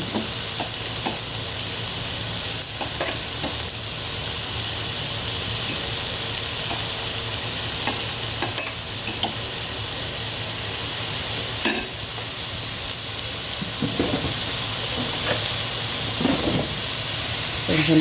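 Ground meat fries in a preheated pan (kawali), with a steady loud sizzle and hiss, punctuated by occasional sharp scrapes and clicks of stirring, close up and uninterrupted.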